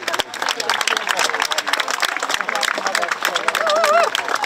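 Applause for a race finisher, a crowd clapping steadily and close, mixed with an announcer's voice and background chatter.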